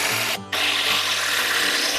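Power tool driving a screw into timber, a steady high whirring drone that briefly cuts out before running on continuously, close and fairly loud.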